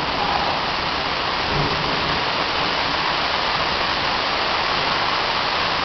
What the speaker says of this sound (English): I love the sound of the rain as it starts falling faster.